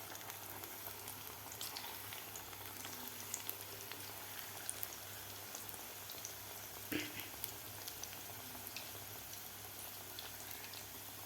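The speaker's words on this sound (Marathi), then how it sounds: "अशा कुरकुरीत होईपर्यंत आपल्याला हे भजी तळायचे आहेत." Spinach and potato bhaji frying in hot oil, a steady soft crackle and bubbling throughout with scattered small pops, fairly quiet and close, no talking.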